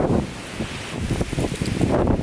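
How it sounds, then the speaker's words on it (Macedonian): Strong wind blowing outdoors on a snowy winter day, a steady, loud rushing roar with gusts that swell and ease, and no voices over it. "Осеќаме многу ветер."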